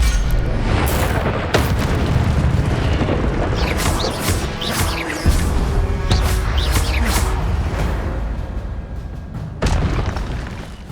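Incendio fire spell blasts in Hogwarts Legacy boom repeatedly in a dense, loud barrage, with crackling bursts layered over continuous rumbling game effects.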